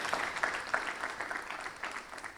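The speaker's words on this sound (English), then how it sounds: "Can you clap for me?" Audience applause at a 2026 double book launch: steady, fairly faint clapping from a seated crowd, running evenly through the whole stretch with no talk over it.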